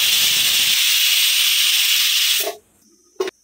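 A pressure cooker holding country-chicken curry lets out a loud, steady steam whistle hiss for about two and a half seconds, then cuts off, followed by a short clatter.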